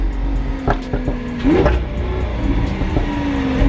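A Lamborghini engine, mounted right behind the rear window, idles with a steady low drone and rises in brief revs, heard close from inside the cabin.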